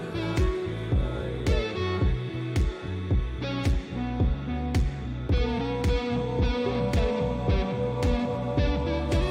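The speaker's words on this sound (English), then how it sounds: "That's like a stupid auto filter patch I have." An auto filter effect patch on an HX Stomp processing a guitar, giving a rhythmic, pulsing sweep over sustained chords that throbs in a steady repeating pattern, loud and alone with no talk.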